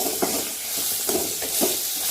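Bitter gourd with tamarind sautéing in a pan for thokku, a continuous hissing sizzle broken by a few soft stirring scrapes.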